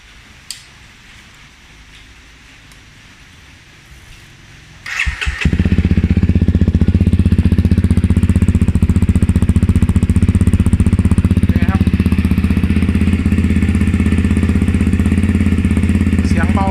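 A motorcycle with an FMF-replica exhaust fitted with a silencer insert starts after a few quiet seconds, then idles and revs with a steady, muffled exhaust rumble, close and loud.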